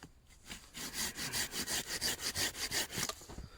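A saw cutting deeper into wood around a marked line while carving a handle at a snowy bushcraft camp, about a dozen steady rhythmic back-and-forth strokes, close and fairly loud, with no talking.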